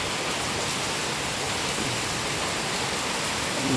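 Heavy rain pouring down near a staircase, a dense steady hiss of falling water that stays even and continuous with no talk over it.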